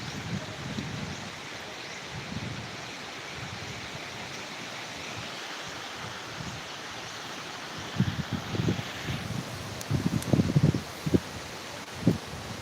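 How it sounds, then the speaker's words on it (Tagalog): Steady broadband wind roar with gusts buffeting close to the microphone, louder bursts toward the end; no talking. "Grabe, lakas ng hangin."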